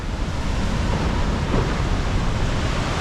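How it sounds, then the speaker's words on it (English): Large ocean waves crash at Kalbarri, Western Australia, in a loud continuous roar of surf mixed with wind buffeting the microphone. Nothing else is heard. "Look at the size of these waves."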